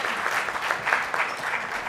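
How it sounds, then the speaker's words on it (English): A conference audience gives its speakers a brief burst of applause, steady, dense clapping from a seated crowd lasting a couple of seconds. "A round of applause"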